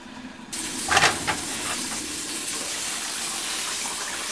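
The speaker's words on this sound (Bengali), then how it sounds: "ফুলকপিটাকে আমি হালকা একটু ভেজে নিয়েছি নেড়ে চেড়ে" Cauliflower florets fry lightly in hot oil with a steady, close sizzle, a few louder clatters of stirring near the start, then continuous frying hiss.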